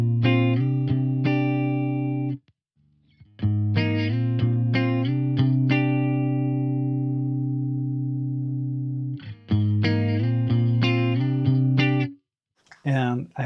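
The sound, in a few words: electric guitar without compression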